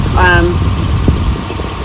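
A boat's engine, cooled from the fresh water tanks, runs steadily while underway with a constant mid-pitched drone, and a brief whistling tone rises over it near the start.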